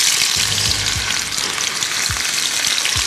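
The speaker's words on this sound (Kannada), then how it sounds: "ಈರುಳ್ಳಿ ಹಾಕ್ತಾಗ ಬುಡೆ ಬುಡೆ ಬರುತ್ತೆ." Onions hit hot oil in a pan and fry with a loud, steady, close sizzle that crackles throughout, with a few faint low bumps and no talking.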